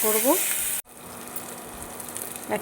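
Spices with tomato puree sizzle steadily while frying in a pan, bright and close, cut briefly by a sharp break then continuing evenly.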